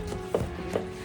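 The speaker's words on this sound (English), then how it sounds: "you are chopping" A knife chopping food for salmorejo or tortilla, two distinct soft thuds on a board about half a second apart over a steady background hum.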